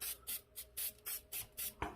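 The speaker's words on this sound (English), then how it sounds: "is just give this a quick little spray." A rapid series of short spray bursts, about seven quick hissing puffs in even rhythm, close and fairly quiet, ending with a small knock.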